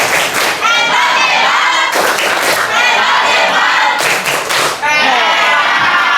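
A class of ninth-grade science pupils claps a quick rhythmic cheer in bursts, with many young voices chanting and shouting along in a lively, loud room.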